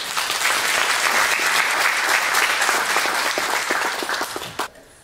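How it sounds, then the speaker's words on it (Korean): A church congregation gives the pastor a full, loud round of applause, sustained dense clapping for several seconds before cutting off abruptly. "우리 목사님 나오실 때 우리 감사와 영광의 박수 한번 올려드리면 감사하겠습니다."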